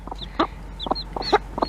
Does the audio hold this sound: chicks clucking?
yes